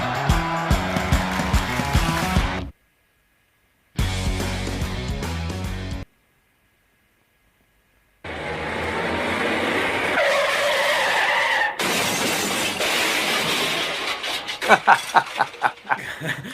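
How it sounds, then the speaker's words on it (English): A car crash: screeching tires skid in long bursts separated by silent gaps, followed by sustained grinding noise and a few sharp impacts near the end. "that was the car crash that happened a couple of days ago"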